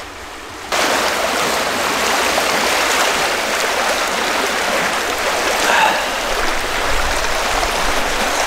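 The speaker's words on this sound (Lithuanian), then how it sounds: "Tuoj parodysiu, nusileisiu link upės." A flowing river rushes loudly and steadily close by on a trout-fishing outing, a continuous wash of water that swells slightly midway, with no talking.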